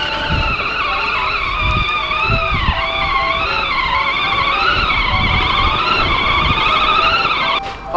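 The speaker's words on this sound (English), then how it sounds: "we gotta use Hudson's tractor to clear out a path for our tractors." A kids' ride-on tractor clears a path through snow with a close, continuous motor whine that rises and falls in pitch over a rough rumbling of the wheels.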